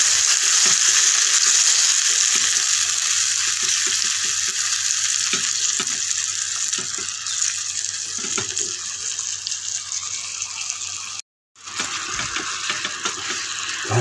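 Sugar with a small splash of water caramelizes in a pan while it is stirred, making a loud, steady, close sizzling hiss with faint scraping ticks underneath and one brief dropout near the end.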